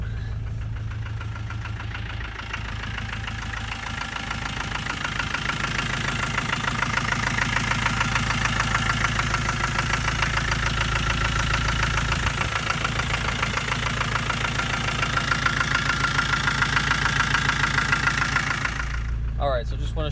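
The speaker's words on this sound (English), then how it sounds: "we're gonna go for a quick ride and we'll start it up" A 1992 Land Rover Defender 110 engine runs steadily at idle for about twenty seconds, a constant low mechanical drone with a faint knocking rhythm, close and fairly loud, ending in a brief clatter.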